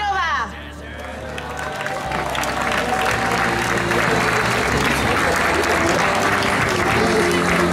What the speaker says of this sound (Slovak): Ešte jeden obrovský potlesk